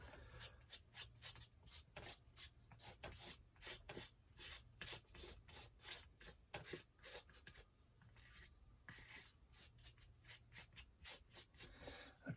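Acrylic medium is scraped across a grungy mixed media art journal page in steady rhythmic rasping strokes, dozens of close, dry scrapes repeating alone without talk.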